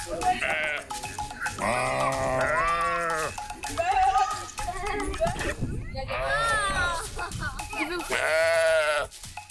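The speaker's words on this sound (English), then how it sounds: "The shepherd and his sheep." Several sheep bleat loudly and repeatedly nearby, overlapping calls in a busy flock, with a person speaking at moments in between.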